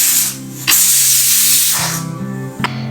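A pressure cooker holding water and onions vents steam through its whistle: loud, sustained hissing with sharp bursts and a tonal whine that shifts pitch partway through.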